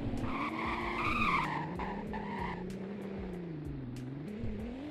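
A rear-wheel-drive 2021 BMW M3 drifts in the Roblox game Greenville, its tires squealing in a long, wavering skid over a steady engine drone, loud and continuous throughout.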